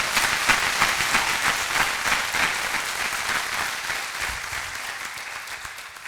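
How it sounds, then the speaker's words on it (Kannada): A hall audience at a convocation ceremony breaks into loud, sustained applause for their teacher, many hands clapping together in a dense wash that slowly tapers off toward the end. "ನಮ್ಮ ಗುರುಗಳಾಗಿರ್ತಕ್ಕಂಥ ಕುಲಕರ್ಣಿ ಸರ್ಗೆ ಒಂದು ಜೋರಾದ ಚಪ್ಪಾಳೆ ಕೊಡೋಣ ನಾವು"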